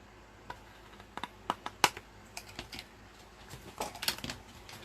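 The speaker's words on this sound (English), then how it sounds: "So I'm just going to trim that off." Paper for a 12x12 scrapbook folio is trimmed with a series of sharp, close clicking cuts, irregularly spaced and quiet overall, with no talking.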